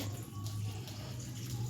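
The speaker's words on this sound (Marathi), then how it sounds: "पाणी टाकून घेणार आहे" Water poured into a pot while cooking soybean samosa filling, a steady close splashing rush with a low hum beneath and no talk.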